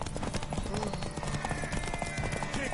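Rapid hoof clip-clops from a galloping horse in the video game The Witcher 3: Wild Hunt, steady and close, with voices talking over the busy game soundtrack.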